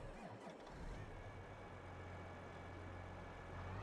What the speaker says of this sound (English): Yeah, start the engine.